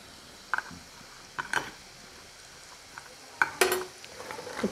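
Half a tablespoon of ghee in a pan as ingredients are stirred, a faint low sizzle under several sharp metal clinks and scrapes of a spoon against the pan, heard close with no talking.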